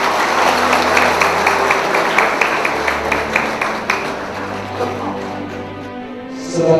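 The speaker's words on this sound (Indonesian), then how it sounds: "Tepuk tangan hari ini." A crowd applauds at a religious dhikr gathering held for the Indonesian Army's 67th anniversary. The clapping is dense and steady over a low hum and fades slightly toward the end.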